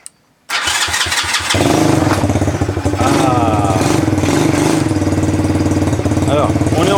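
A Chinese 125cc quad engine catches and runs loudly and steadily after a brief silence and a few cranking pulses, its rough mid-pitched drone holding close and continuous with rising revs under occasional voices.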